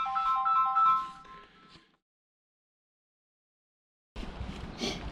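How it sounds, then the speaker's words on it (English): A phone ringtone plays a bright, repeating melodic pattern for nearly two seconds and then cuts off. Silence follows before loud, noisy outdoor sound begins during a Scandinavian touring trip. "that's the phone"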